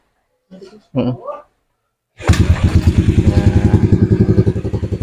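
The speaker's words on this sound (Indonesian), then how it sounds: "jadi motor ini langsung hidup ya" After a kick start, an automatic scooter with a compression loss fault fires up and settles into a loud, rapid, steady putter close by, with a few spoken words before it catches.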